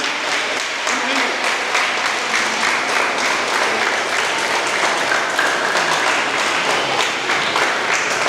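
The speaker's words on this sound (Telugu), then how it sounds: "నాగార్జునయ్య ప్లీజ్ చప్పట్లు కొట్టరా, కృతజ్ఞత చూపించుకోరా" Audience clapping at a Sri Krishna Janmashtami celebration, with dense, steady applause that stays loud and even for about eight seconds, with no words spoken over it.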